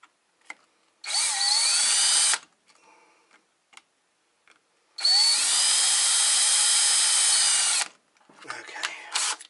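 A power drill whines loudly in two bursts while drilling an aluminum plate, a short one then a longer run of about three seconds, with quiet clicks and handling noise between.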